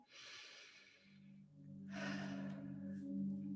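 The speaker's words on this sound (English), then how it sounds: "Take a deep breath in." A person takes a slow, deep breath in, an airy inhale heard close up and alone, followed by a soft breathy exhale.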